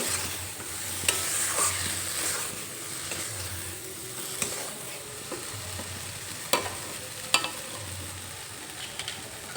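Chopped tomato and green chillies fry in a pan of chana dal, a soft continuous sizzle with occasional sharp spatula knocks and scrapes, close by with no talking.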